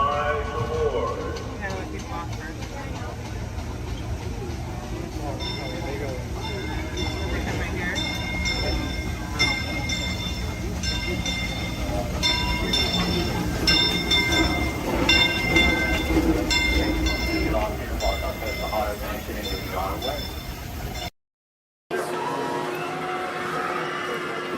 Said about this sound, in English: Welcome aboard the Disneyland monorail.